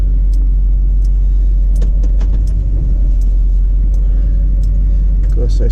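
A truck backs a trailer in at a shop with a steady, loud low engine rumble throughout, punctuated by faint jingling and clicks.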